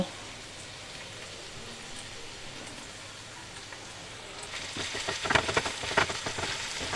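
Onion paste and ginger-garlic paste sizzle in a frying pan, a quiet steady hiss that grows louder and crackles more sharply partway through as the paste hits the hot oil.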